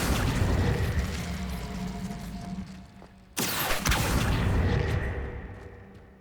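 Incendio fire spell cast in the video game Hogwarts Legacy, a sudden loud fiery burst and whoosh bursting in midway over steady game ambience, then a sustained roaring wash that slowly fades.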